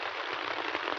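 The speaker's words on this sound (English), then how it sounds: "as you can probably also hear, the rain has intensified" Rain pours down harder on a campsite during a thunderstorm, a dense, steady hiss of drops close by that fills a brief moment with no voices.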